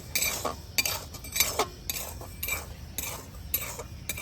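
Semolina dry-roasts in a pan for gulab jamun while a metal spoon stirs and scrapes it in steady repeated strokes, close and fairly soft, with no talking.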